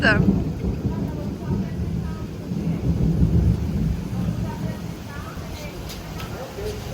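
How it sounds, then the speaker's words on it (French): Thunder rolls through a storm in northeastern Brazil, deep rumbling swelling and easing under rain while people talk nearby. "C'est la tempête."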